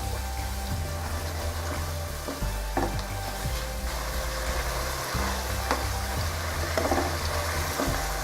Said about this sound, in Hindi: इसकी अच्छे तरीके से भुनाई करेंगे।